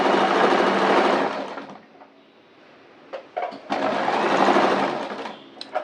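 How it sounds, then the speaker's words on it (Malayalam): A sewing machine stitches a cross piece onto a kurti neckline in two close, loud bursts of fast whirring, separated by a short pause with faint clicks and handling noises. "നെക്കിൻ്റെ ഷേപ്പിൽ ഇങ്ങനെ വളച്ച് കൊണ്ടുവന്ന് 1/4 ഇഞ്ചിൽ നമ്മളിങ്ങനെ നെക്കൊന്ന് സ്റ്റിച്ച് ചെയ്യും"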